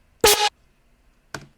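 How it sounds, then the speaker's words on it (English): A twisted house synth lead built on a saw wave oscillator plays two short, loud bleeps, the first longer and brighter, the second brief after a pause, with no one talking. "the twisted house lead, or bleep as I like calling them"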